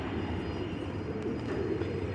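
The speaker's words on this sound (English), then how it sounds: "So many birds." A large flock of birds in a park quad gives a dense, steady rush of wings and soft cooing chatter.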